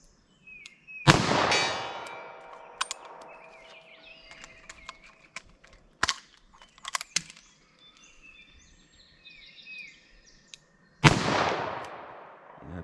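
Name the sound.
38 Special gunshot at a target 75 yards away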